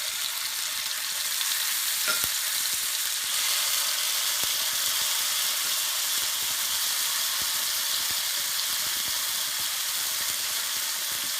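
Fish fries in a pan with a steady, even sizzle and crackle that stays constant throughout, with no voices heard.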